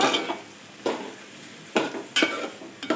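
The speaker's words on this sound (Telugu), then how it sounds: "ఆనియన్స్ వేసుకున్నా. ఇవి అవన్నీ కొంచెం ఫ్రై అవ్వాలి." Onions frying in a pan with tomato, raw mango and drumstick for an egg drumstick curry, a steady sizzle broken by four loud bursts of stirring and scraping close up, no talk.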